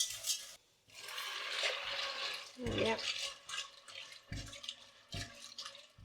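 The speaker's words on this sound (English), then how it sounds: "we just add some water to it" Water poured into a pan of pasta tossed in butter, a splashy running pour with clinks of utensils, while a voice speaks briefly.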